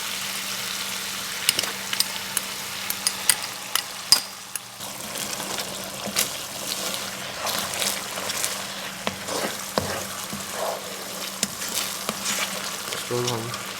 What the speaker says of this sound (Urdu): اس کو ہم ہلائیں گے اچھی طرح۔